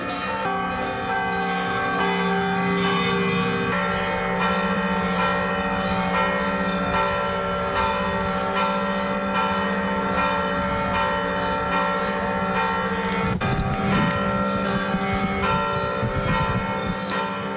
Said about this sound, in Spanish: ahí tienen las imágenes del sonido de las campanas en la capital